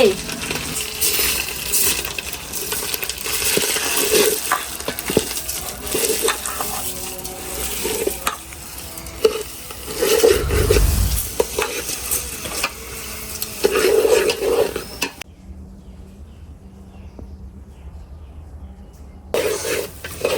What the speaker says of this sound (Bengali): আমার চালগুলো তো সুন্দর করে ভাজা হয়েছে